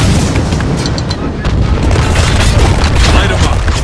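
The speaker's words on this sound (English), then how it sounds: "Fire! Prepping mortar." Mortar fire in the war shooter Spec Ops: The Line, heard as loud, dense booms and blasts in continuous heavy rumbling combat, with voices shouting over it.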